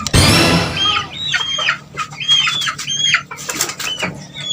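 Chickens clucking repeatedly in short rising calls, close by, with a loud flurry at the start and scattered bird noise around them.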